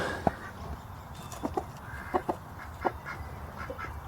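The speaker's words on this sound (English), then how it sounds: "those are the chickens" Chickens cluck in short scattered bursts against a steady outdoor background, several soft calls spread out over a few seconds.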